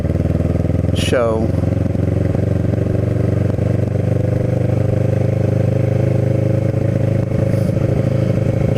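A Kawasaki Ninja 650R motorcycle cruises through town streets with a steady, loud engine drone and wind rush, heard from the rider's position, while a rider talks briefly.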